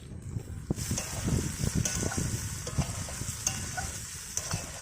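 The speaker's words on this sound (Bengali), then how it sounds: "আর বন্ধুরা আলুটাও ভাজা হয়ে গেছে" Potatoes and onions frying together in a pan, a steady sizzle broken by repeated stirring scrapes and clacks, fairly close, with no talking.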